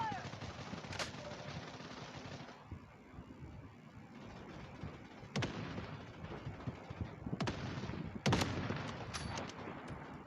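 Sniper rifle fire in the shooter game Blood Strike, with three or four sharp cracking shots spaced several seconds apart over a continuous bed of game noise and background gunfire, and a player talking now and then.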